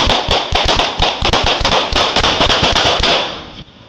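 A suspect opens fire during a police traffic stop: a rapid volley of well over a dozen sharp, loud gunshots in quick succession, close by, which fades out at the end with no voices.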